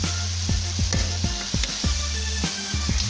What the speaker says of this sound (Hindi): इसके साथ ही मैं इसके अंदर चिकन ऐड कर दूंगा